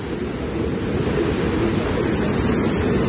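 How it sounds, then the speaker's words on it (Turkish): A flooded creek in Turkey rushes past a riverside facility, a loud, dense and continuous roar of churning floodwater, close and steady with wind buffeting the microphone. "Dere aşırı büyüdü."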